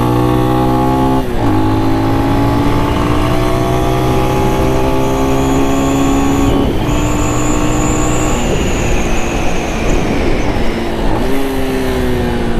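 A Lifan X-Pect enduro motorcycle engine, loud and close, rising in pitch through each gear, then dropping sharply as the rider downshifts, repeated several times over the ride.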